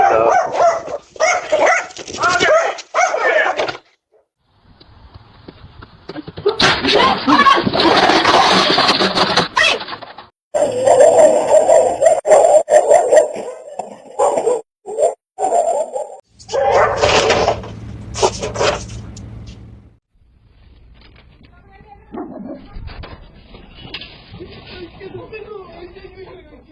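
Several dogs bark loudly and excitedly while chasing a delivery man outdoors, with yips and whimpers mixed in, in bursts broken by short pauses and scuffling noises, and people shout over the commotion.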